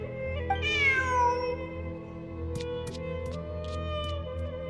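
In a video game, a kitty gives one clear rising-then-falling meow, followed by short chirpy calls over a steady low game background hum.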